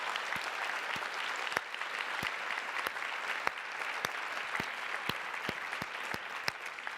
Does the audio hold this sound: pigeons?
no